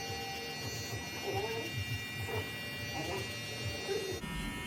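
Hair clippers fitted with a 1.5 guard buzz steadily while cutting hair during a drop fade, a close, continuous electric hum with faint talk underneath.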